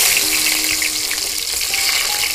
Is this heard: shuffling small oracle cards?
no